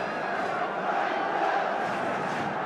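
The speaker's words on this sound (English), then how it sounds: "With the crowd getting behind them." A large football crowd at Q.P.R. against Manchester City roars in a dense, sustained wall of chanting and shouting that swells slightly midway, heard from within the stadium.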